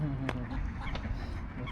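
A duck on a pond where swans gather quacks twice in short, separate calls over steady outdoor background noise, with a person speaking nearby.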